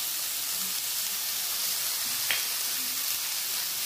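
Vermicelli sizzles softly in a pan while being sautéed and stirred, a faint steady frying hiss with one brief scrape of the spoon partway through.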